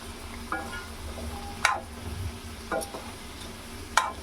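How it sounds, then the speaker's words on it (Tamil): Cauliflower gravy stirred in a pan over a medium flame, with a low steady simmer underneath and a few sharp spoon scrapes against the pan at irregular intervals, close and clear with no talking. "இதை நல்லா பரட்டி விட்டு அஞ்சு நிமிஷம் மீடியம் ஃப்ளேமில் வைக்கலாம்"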